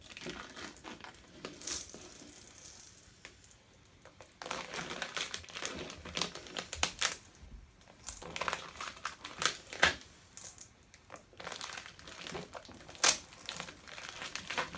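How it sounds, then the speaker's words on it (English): Transfer tape is slowly peeled off a blue Oramask 813 vinyl stencil on wood, producing close, uneven crinkling and crackling in irregular bursts with brief quiet pauses. "carefully I'll peel back my transfer tape, leaving the blue stencil attached to the wood"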